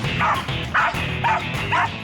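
A feisty terrier barks in four sharp, evenly spaced yaps, loud and close.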